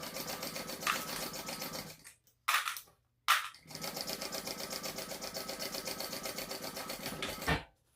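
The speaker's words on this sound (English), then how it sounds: "and then sew it at the seam allowance, and then we're going to flip it and top stitch." A sewing machine stitching a bag pocket seam in twill runs in close, busy bursts: a run of fast stitching, a pause with two brief clunks, then another long stretch of steady whirring.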